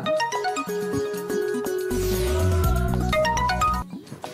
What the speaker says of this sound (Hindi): अरे फोन आ गया